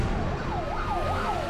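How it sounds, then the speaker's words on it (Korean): Wailing emergency sirens from fire engines and ambulances responding to the Daegu subway fire, rising and falling over a low rumble of road traffic, fairly loud and continuous. "대구 전역에 소방차, 구급차가 일제히 출동했어."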